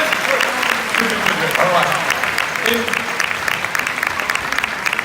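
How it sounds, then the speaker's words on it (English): Audience applause at a corporate family reunion event, a steady wash of clapping that fills the whole stretch at fairly loud level, with a voice speaking briefly over it. "Give her a big round of applause."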